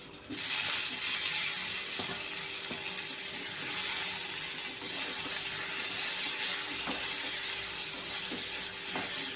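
Chopped tomato goes into a pan of frying garlic and green chilies, and a loud, continuous hissing sizzle begins almost at once and holds steady, with faint scattered clicks.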